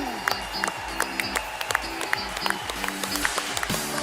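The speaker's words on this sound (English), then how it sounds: "we're going to be giving you a big round of applause" Conference crowd at the LifeWave 2025 Anaheim event applauds newly promoted leaders. Steady clapping sits under loud, rhythmic pulsing music, with occasional voices cutting through.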